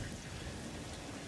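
Rain in the video game Satisfactory, a dense, even hiss of falling rain with a low rumble beneath, steady and moderately quiet, with no voices.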